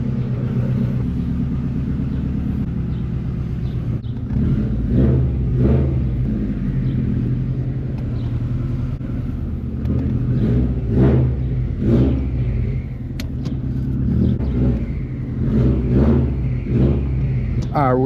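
Subaru WRX STI engine rumbling and revving as the car pulls away and cruises, a steady loud low drone with rising surges, while a person talks over it throughout.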